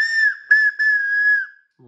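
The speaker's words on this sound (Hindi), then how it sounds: "देखिए यहाँ से आप सीटी बजा भी सकते हैं, मैं आपको इसको बजा के बताता हूँ" A toy whistle with a built-in light, part of a snack-collection toy, blown in three loud, shrill bursts with a short break between each, the last and longest tapering off.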